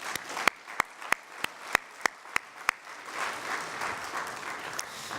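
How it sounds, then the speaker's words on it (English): A temple congregation at a religious school rededication claps together in a steady rhythmic beat of about ten sharp unison claps, then breaks into looser scattered applause and crowd murmur. "You can clap for that."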